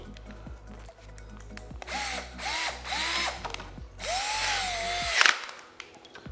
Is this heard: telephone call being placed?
no